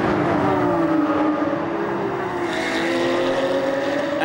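Porsche Carrera Cup race cars at full throttle on the Nürburgring Nordschleife, a loud sustained engine howl with rising pitch as the cars pass.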